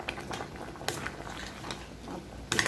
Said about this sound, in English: Pot a bubble.